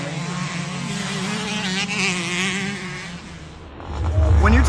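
A custom Suzuki dirt bike fitted with a KTM engine is ridden, its engine droning steadily at a mid-pitched whine that dips slightly and then swells louder as it revs near the end.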